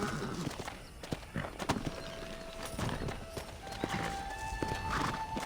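Horse hooves clip-clop at a steady walking pace in the Red Dead western game while John Marston rides, with occasional neighs and ambient game sounds layered over a busy background.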